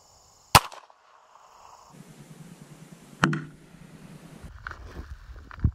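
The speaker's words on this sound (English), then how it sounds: "we're gonna be doing is shooting .22 first out of a .22 pistol" A .22 pistol fired into sandbags gives two sharp, close cracks a few seconds apart, each with a short ringing tail, amid quiet handling noise and a final softer knock.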